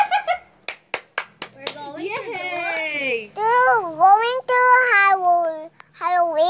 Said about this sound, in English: Clap. And clap.